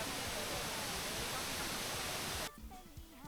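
Tad Kuang Si waterfall in Laos roars as a loud, dense wash of falling water that fills the scene, then drops off sharply to a quieter background near the end.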